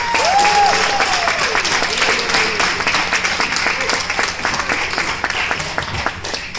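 Audience applause at the Festival Émergence 2015 music festival, a dense, steady wash of clapping that holds loud across the whole stretch, with faint cheers and a brief whistle early on.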